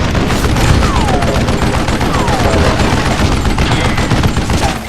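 Gunfire in the Western shooter game Call of Juarez Gunslinger, loud and continuous, with dense overlapping shots forming a sustained barrage across the whole stretch.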